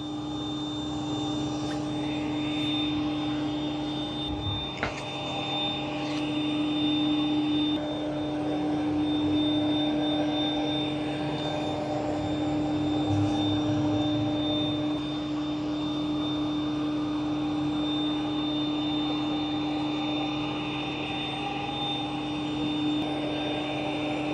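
An Ecovacs Deebot N20 Plus robot vacuum running on strong power over carpet, giving a steady whirring drone with a fixed high whine and occasional soft bumps and clicks.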